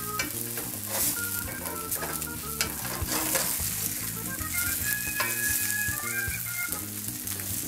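Black bean cakes fry on a hot plate, giving a loud, continuous close sizzle with crackling spatters and faint scraping, with no one speaking.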